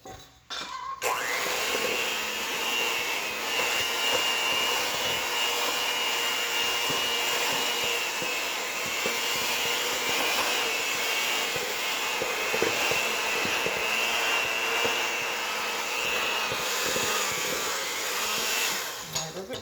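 An electric mixer beats chocolate frosting with added cocoa for Easter cupcakes. It sounds like a loud, steady motor whir that starts about a second in and runs almost unbroken to the end.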